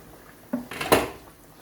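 Lid set onto a couscous pot, a couple of light metallic clinks followed by a brighter clattering knock, close and brief in a quiet kitchen.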